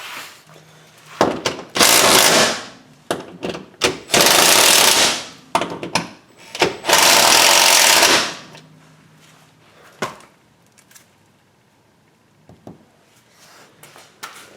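Impact-gun rattle tightening the crossmember bolts on a Jeep Cherokee, a string of short loud hammering bursts close by, with brief gaps between bolts and quieter clicks at the end.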